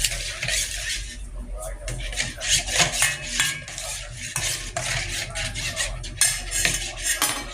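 A spoon stirs and scrapes a mix of Coke, salt and dishwashing liquid in a metal pan being cleaned, with clinking and rubbing close by and low voices talking now and then.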